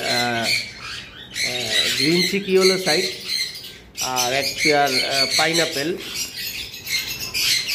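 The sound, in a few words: English budgerigars squawking in cages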